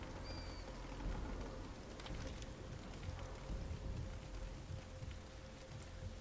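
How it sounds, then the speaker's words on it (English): Steady rain falls in the video game Sniper Elite 5, a continuous, even hiss that stays moderate and unbroken, with a faint tonal hum running underneath and no speech. "I think we're kind of covered because of the sound of the rain"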